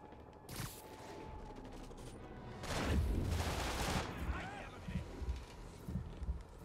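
Sniper fire from the Spider-Man video game crackles under a continuous game-audio bed, with one louder burst in the middle and a few sharper cracks toward the end.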